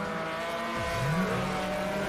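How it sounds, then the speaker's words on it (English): Race cars speed by in a televised car race, a loud, sustained engine roar with a rising and falling pitch sweep as a car passes close. "No, it's a car race."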